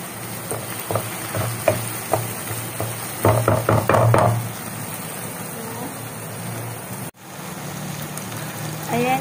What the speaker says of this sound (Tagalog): Kinikisa muna yung bawang at saka luya.